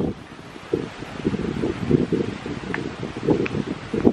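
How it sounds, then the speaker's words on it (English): Seaside wind at low tide gusts against the microphone in buffeting bursts, a rough rustling roar that swells and drops irregularly with no voices heard. "So windy."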